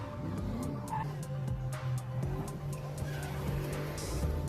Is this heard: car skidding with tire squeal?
yes